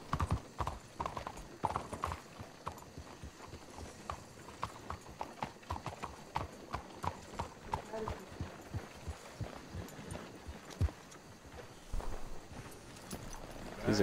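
Horse hooves clip-clop at a steady walking rhythm throughout in Red Dead Redemption 2, fairly close, with occasional voices and other game sounds mixed in.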